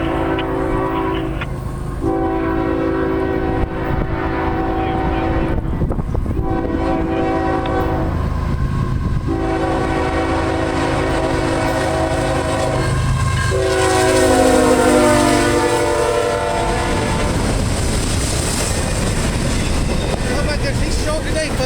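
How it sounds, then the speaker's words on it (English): Norfolk Southern stack freight train 213 passing southbound through downtown Belmont, North Carolina, on the Charlotte District mainline, its horn blaring in long loud blasts over the steady rumble and clatter of the cars, continuous and close. "We got NS Train 213 coming southbound through downtown Belmont, North Carolina."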